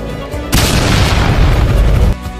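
A sudden loud explosion bursts out and roars for about a second and a half before cutting off, heavy and booming.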